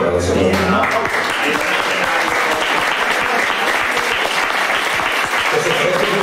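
Audience applause at a live concert in a Valladolid club hall, steady and dense dense clapping sustained throughout, loud and close with some voices mixed in.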